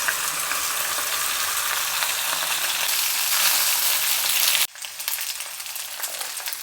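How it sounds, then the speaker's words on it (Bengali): Boiled pasta frying with egg, tomato and spices in a pan, a loud steady sizzle that drops abruptly to a softer crackle partway through, close and alone. "সিদ্ধ করে রাখা পাস্তাগুলো দিয়ে দিচ্ছি।"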